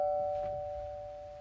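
A doorbell chimes once, a clear sustained tone that slowly fades away indoors.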